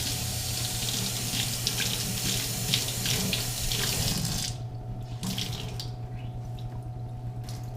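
Water runs steadily from a tap into a sink for several seconds, a broad splashing hiss that cuts off partway, leaving drips and a low background hum.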